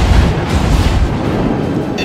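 Heavy booming blasts from the Fuso battleship's main turret guns in World of Warships, dense low rumble from overlapping shots rolling on loudly throughout.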